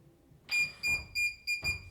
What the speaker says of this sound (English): You can hear this beep sound.